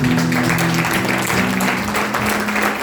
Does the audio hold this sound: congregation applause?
yes